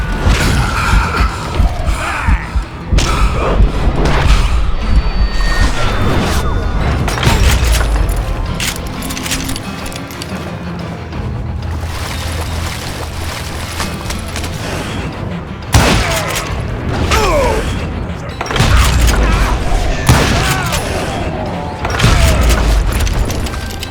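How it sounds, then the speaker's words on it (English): Gunfire volley in the Western shooter Call of Juarez Gunslinger: loud, dense bursts of shots and booming blasts fire in rapid clusters across the whole stretch, with a steady rumble of battle noise underneath. "a fusillade of bullets come raining down from on high"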